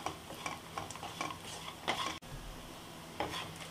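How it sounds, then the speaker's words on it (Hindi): Dry spices being fried and stirred in a pan for Mumbai-style kanda poha, with steady sizzling and repeated scraping stir strokes, a brief pause, then more stirring. "और 1 मिनट के लिए मसालों को हम थोड़ा सा फ्राई करेंगे।"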